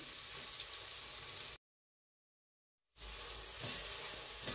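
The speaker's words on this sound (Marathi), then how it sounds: "त्याच्यात आता थोडासा कांदा परतून घेते" Onion sautés in hot oil with cumin, mustard seeds, asafoetida and turmeric for pav bhaji, giving a quiet steady sizzling hiss broken by a gap of silence of over a second.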